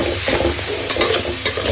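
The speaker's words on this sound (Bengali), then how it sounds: "ভালো করে এবার সব কষাবো।" Spice paste with salt and red chili paste is stirred and fried in a pan for a koi fish curry, a loud close sizzle broken by scraping strokes of a spatula.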